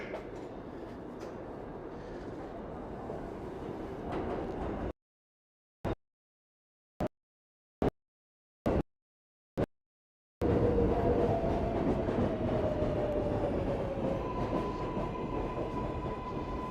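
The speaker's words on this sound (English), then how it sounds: "It's the train." A New York City subway train arriving at a station roars loudly and steadily, a long squeal of wheels rising on rails as it pulls in; the noise stops abruptly partway, leaving only scattered clicks.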